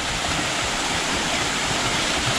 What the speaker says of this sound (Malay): kat sini ada anak air terjun